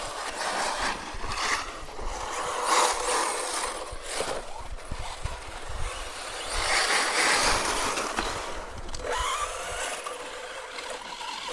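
A Hyper 10TT RC car on a gentle test run, its motor and drivetrain whirring and rattling continuously with rising and falling surges, fairly close and with no talk.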